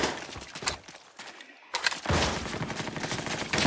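Battle gunfire from the World War II shooter Call of Duty: World at War, loud bursts of rifle and automatic fire crackling close by, a brief lull, then heavy overlapping shots resuming.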